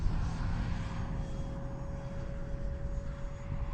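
A small E-flite Habu SS 50mm electric ducted-fan RC jet flies on a windy day, its steady whirring whine droning continuously with a fixed tone and wind rumble beneath, moderately loud throughout.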